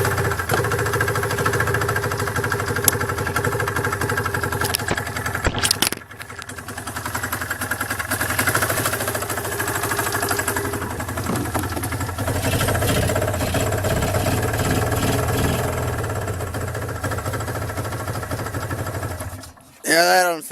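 An old engine fitted with new spark plugs idles roughly after starting, a steady near rumble that cuts out briefly around the middle and near the end, with people talking faintly over it.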